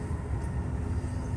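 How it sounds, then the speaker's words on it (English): An Amtrak passenger train near New Carrollton rolls along the tracks at speed, heard from inside as a steady, low, rumbling roar with faint rhythmic clatter, no voices. "Man, this train is moving right now."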